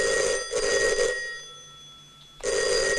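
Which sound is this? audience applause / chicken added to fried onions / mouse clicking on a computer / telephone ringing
telephone ringing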